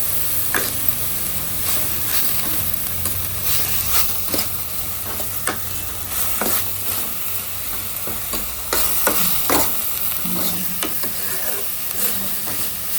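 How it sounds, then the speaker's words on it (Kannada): Turmeric powder frying in a pan for Bombay saagu, a steady close sizzle and hiss with repeated scraping stir strokes throughout, no talking. "ಅರಿಶಿನ ಪುಡಿ ಹಾಕಿ ಚೆನ್ನಾಗಿ ಫ್ರೈ ಮಾಡ್ತೀನಿ"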